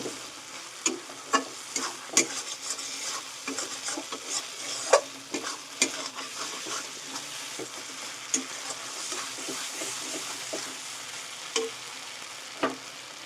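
Spice paste for a crab curry sautéing in a pan: repeated spatula scrapes and taps, irregular and close, over a low, even sizzle, with no voices.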